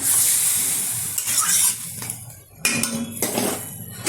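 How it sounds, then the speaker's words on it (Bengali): A spoon stirs chicken curry in a pot, scraping and clinking against the metal with bursts of sizzling, loud and close, pausing briefly before the stirring resumes. "নাড়িয়ে দিচ্ছি"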